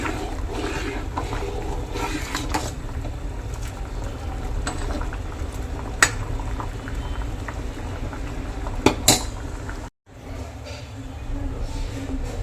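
Lentil and rice khichdi with masoor dal, moong dal and coriander being stirred in a pot, a continuous bubbling, hissing bed with scattered clicks of the spoon against the metal and a brief dropout near the end.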